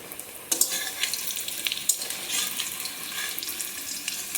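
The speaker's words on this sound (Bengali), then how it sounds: "এটাকে মিডিয়ামে রেখেছি, এক পিঠ ভাজা হোক, তারপর উল্টো দিকে দিয়ে দেব" Egg, onion and potato fry in a pan over medium heat, giving a steady close sizzle with occasional soft stirring clinks and no voices.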